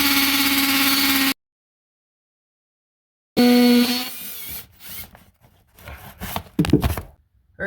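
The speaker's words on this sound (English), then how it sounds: "I'm also on the concrete setting, the hammer setting." Hammer drill on its concrete hammer setting punching a hole through a concrete exterior wall for a dryer vent: a loud steady burst, a pause of silence, then another loud burst that tapers into irregular knocks and rattles.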